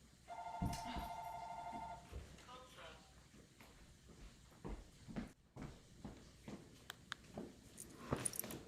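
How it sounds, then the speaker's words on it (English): A telephone rings with a bright electronic trill near the start, then stops, leaving faint movement, thumps and quiet voices. "You sure that's not my telephone ringing?"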